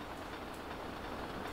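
Train sound effect from the Lylat Wars video game, a quiet, steady rail rumble with faint rhythmic wheel clatter and occasional high squeals, heard alone.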